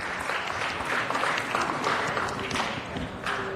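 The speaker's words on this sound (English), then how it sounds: "give another round of applause to our very special visitors" Steady applause from a crowd at a city council meeting, dense clapping holding at an even level throughout with no pauses.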